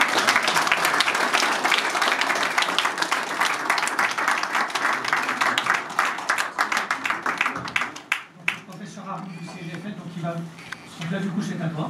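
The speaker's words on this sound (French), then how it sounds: "Je crois qu'on peut applaudir" Crowd applauding a charity cheque presentation after a run/walk event in a park, loud sustained clapping for about eight seconds that tapers off as people start talking.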